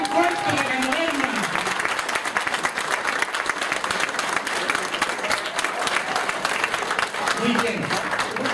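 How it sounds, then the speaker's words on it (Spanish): Strong audience applause at a Ganoterapia (DXN) motivational conference, dense sustained clapping from a crowd filling the room, with a voice speaking briefly over the start and end. "Un aplauso bien fuerte de Ganoterapia."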